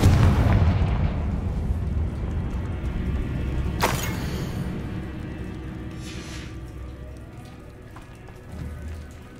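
A Confringo fire spell explodes inside a tomb in Hogwarts Legacy, opening with a loud deep boom that decays into crackling rumble, then a sharp bright burst and a few fainter crackles as the noise fades.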